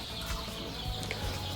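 Baby chickens on a poultry farm, brief clucking and cheeping from a small flock mixed with a low steady hum, lasting under two seconds.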